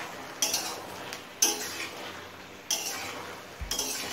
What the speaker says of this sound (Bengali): ঢাকা খুলে কচুর শাকটা উল্টো পাল্টে একটু নেড়ে নিলাম